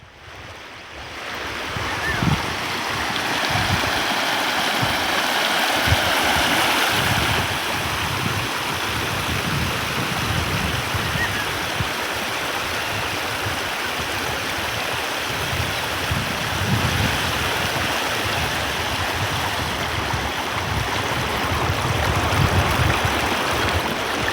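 N. Devarahalli Halla, a stream swollen and overflowing after heavy rain, roars as a loud, continuous rush of water with wind buffeting the microphone, steady throughout with no talk.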